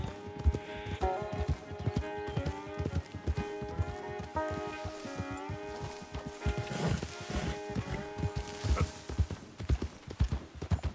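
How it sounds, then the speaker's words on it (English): Horse hooves clip-clop at a walking pace in Red Dead Redemption 2, rhythmic close hoofbeats under background music with occasional game sounds. "That's a nice horse."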